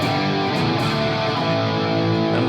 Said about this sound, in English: Now I've got a lot of distortion on my amp